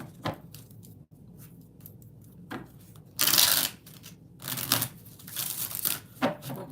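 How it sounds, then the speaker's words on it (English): A Rider-Waite tarot deck is shuffled by hand in several separate bursts of riffling, crisp card flutter and soft slaps, each a second or so long with quiet gaps between. "4 shuffles."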